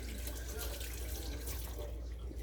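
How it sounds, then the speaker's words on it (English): Tap water runs steadily into a kitchen sink while hands are washed beneath it, a soft continuous splashing rush heard close up for a few seconds. "So get my hands washed off right quick."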